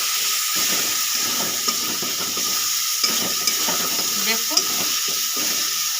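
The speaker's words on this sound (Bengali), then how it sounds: "দিয়ে দেবো এক চামচ জিরের গুঁড়ো মশলাটা কষিয়ে নেবো" Spice masala with cumin powder stir-fried in a hot pan, giving a loud, steady sizzle and hiss with scraping stirs of a spoon throughout, no voices over it.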